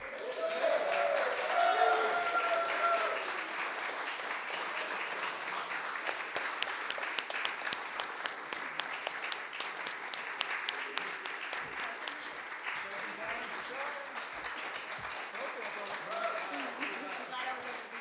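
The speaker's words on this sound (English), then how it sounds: "Let's give everybody a round of applause." Sustained audience applause fills a room after winners of a Suwannee Riverkeeper songwriting contest are announced, dense clapping continuing for a long stretch with a brief voice early on.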